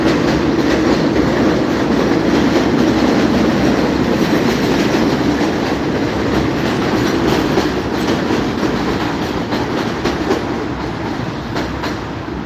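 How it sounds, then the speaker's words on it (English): A train passes on tracks in New York City, a loud, steady rumble with a rhythmic clatter that holds for the whole stretch and eases slightly toward the end, with no talking. "I wait to the train pass."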